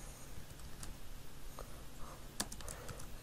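Quiet, close typing on a computer keyboard: a few scattered keystrokes, then a quick burst of clicks near the end, with no talk.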